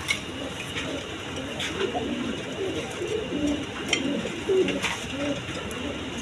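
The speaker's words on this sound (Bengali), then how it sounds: "এখানে এক পেয়ার বোম্বাই আছে" A pair of large Indian Bombai pigeons coo up close, soft low rolling coos repeating over a steady background hum.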